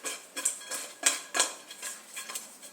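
Salt and pepper being mixed into seasoning for shrimp and grits, with a series of light clinks and scrapes of a utensil against a bowl in an irregular rhythm, close and moderately quiet.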